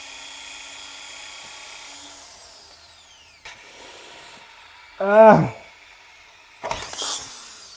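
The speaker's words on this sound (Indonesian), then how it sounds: "Sekarang kita coba pakai bor yang ada di studio kita sendiri." A power drill whines at high pitch, winding down, then starts again in short bursts, with a sharp squeal as it presses hard against an Honor X9c phone screen.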